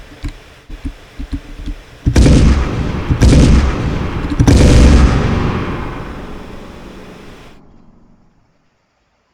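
Tank shells fire in an Unreal Engine game: three heavy booming blasts in quick succession after some lighter knocks, each ringing out and decaying into a long fading rumble before silence.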